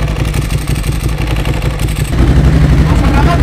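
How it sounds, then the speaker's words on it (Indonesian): A Ducati motorcycle with a dry clutch idles with the clutch held in, giving a steady, close, dense mechanical rattle over the engine's low throb, which grows slightly louder partway through. "Nah, suaranya bakal kenceng ketika kita tahan kopling saat idle."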